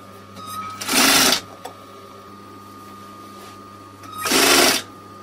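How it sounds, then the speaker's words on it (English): A sewing machine runs a stitch around a foam puppet's body and head, joined at the neck, in two short, loud bursts of rapid mechanical whirring separated by a quieter pause. "we're going to run a stitch right the way around there"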